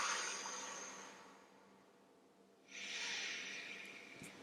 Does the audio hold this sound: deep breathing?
yes